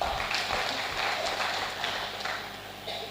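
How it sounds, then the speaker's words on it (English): Soft, distant applause from a summit audience on peace and environment in Africa, a steady low wash of clapping through the whole short stretch. "good round of applause again for that group."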